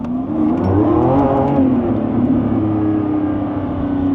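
A 2024 Lamborghini Revuelto engine roars steadily and climbs in pitch as it accelerates hard in first gear, loud and close, with no voices over it.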